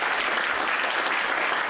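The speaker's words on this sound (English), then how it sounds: "I'd like for everyone to give Pat a warm round of applause." A civic roundtable audience applauds, a dense, steady burst of many hands clapping at even loudness, with no talk over it.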